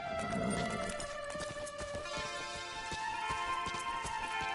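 Horse hooves clip-clopping at a steady gait with a faint whinny early on, heard in Metal Gear Solid V: The Phantom Pain over a continuous music track.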